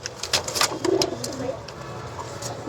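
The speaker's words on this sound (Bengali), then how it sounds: "এই যে কবুতর গুলো এখন আমি ঢুকাই একটা বেড়ায়" Pigeons coo softly in short, rolling calls close by with light rustling and faint background noise around them, and no one talks.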